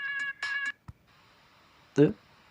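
Cartoon characters in a Skibidi Toilet episode give cute meows, two or three short high-pitched calls at the start, followed by a faint click and then a louder, lower yowling cry near the end.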